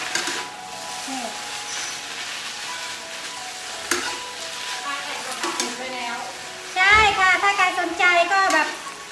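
Kale tops stir-fried in a stir-fry sauce, giving a steady sizzle with scraping stir strokes and sharper clatter near the end, while a voice talks over much of it.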